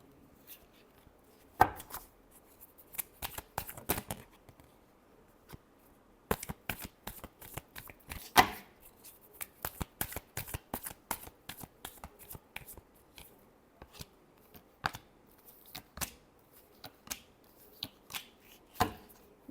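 Tarot cards are shuffled by hand in rapid bursts of crisp riffling and flicking, loud and close, separated by short pauses, with no talking.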